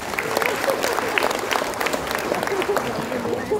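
An audience at a national literacy event in Singkawang claps in loud, sustained applause, with some voices mixed into the crowd noise.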